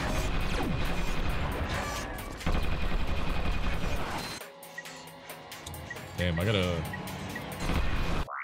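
Rapid gunfire from a weapon in Ratchet and Clank 2, with dense bursts of crashing, mechanical shots and effects under game noise, dropping briefly before the shooting starts again.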